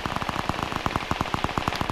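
Rapid automatic gunfire in a video game, a steady burst of evenly spaced shots roughly every tenth of a second, close and loud, running the full length with no talk over it.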